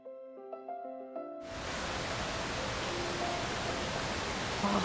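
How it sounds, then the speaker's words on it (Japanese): A mountain stream flows along a valley walking trail toward a waterfall in the Sobo mountain range, a steady broadband rush that swells in suddenly after a few soft musical tones and then continues loud and unbroken. "この水の音いいですね。"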